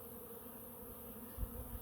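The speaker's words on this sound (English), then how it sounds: "Look at the bees in the air." Honeybees flying busily around a hive entrance after rain give a steady, close buzzing drone, with a brief louder swell near the end as one passes by.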